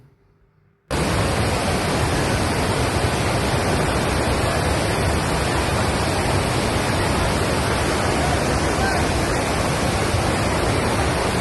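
A waterfall swollen by heavy rain roars in a steady, dense rush of broadband water noise. It starts abruptly after a brief quiet moment, then holds loud and unbroken with no voices over it.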